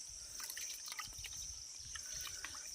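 Fresh water is poured out during a fishing trip, producing a faint, quiet trickle with light drips against a soft background hum.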